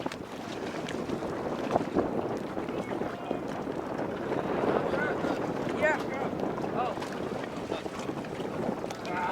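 A boat motor drones past on open water, wind buffeting the microphone, with a couple of brief spoken exclamations over it.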